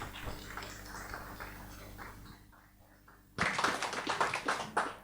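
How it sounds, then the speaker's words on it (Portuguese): After a faint, murmuring lull, an audience at a spiritist center symposium bursts into loud, close hand clapping that continues in a brisk, uneven patter to the end. "Então, uma salva de palmas bem forte para eles."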